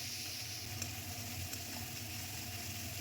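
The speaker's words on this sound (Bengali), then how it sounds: "জল দিয়ে মশলাটা কষিয়ে নেব।" Spice paste of ground coriander, turmeric and green chillies frying with a little water gives a soft, continuous sizzle, quiet and even, with a couple of faint stirring ticks and no voices.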